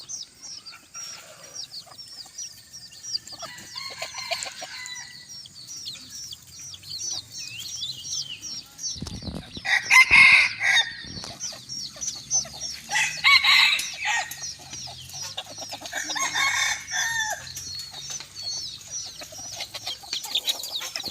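A small bantam rooster crows several times on a hot evening, shrill and close, amid scattered clucking and other birds calling in the background.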